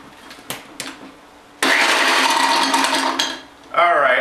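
A glass blender runs loud and steady, churning ice, Cinnamon Toast Crunch cereal and Gentleman Jack whiskey, with unblended ice clanking around inside. Before it starts there are a few light knocks, and the motor's pitch shifts near the end.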